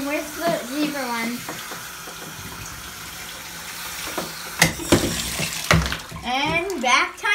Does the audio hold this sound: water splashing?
yes